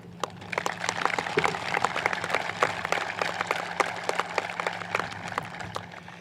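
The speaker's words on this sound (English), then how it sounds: "That deserves a round of applause" Graduating high-school seniors at a commencement ceremony clap sparsely: scattered, individual sharp claps spread across the span at a modest level over a low, steady hum, with no voices.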